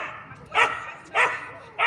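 A dog gives three short, sharp barks, evenly spaced and fairly close, with quiet pauses between them.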